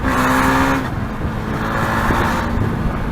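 A 2017 KTM Duke 390 single-cylinder motorcycle engine drones loudly and continuously while riding, with a buzzy, slightly rough tone that shifts in pitch as the revs change, and wind noise around it.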